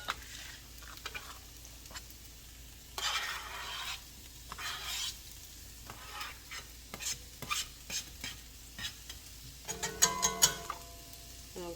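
Garlic sizzles softly in a pan for a recipe of lemon bucatini with chicken cutlets and pesto, broken by repeated bursts of scraping as it is stirred, with light clinks of utensil against pan near the end; no one speaks.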